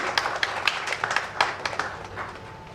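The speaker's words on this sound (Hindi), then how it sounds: "जोरदार तालियों के साथ स्वागत करें।" Scattered hand claps from an audience at a Hindi book launch event in India, a loose patter of individual claps rather than full sustained applause, moderately close and fading toward the end.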